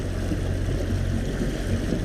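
Boat motor droning steadily at sea, a low continuous rumble with water wash over it, constant and close.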